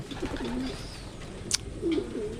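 Pigeons coo softly in low, rolling calls during feeding, with one short sharp chirp in the middle; the sound is moderately faint against steady outdoor background noise.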